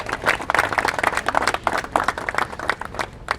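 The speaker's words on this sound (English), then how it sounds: "give a round of applause to that" An audience applauds steadily, many hands clapping together in a dense, sustained burst that fills the whole stretch.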